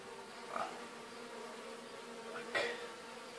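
Honeybees hum steadily at a hive during queen rearing, a soft, constant drone with two brief louder swells as bees fly close past.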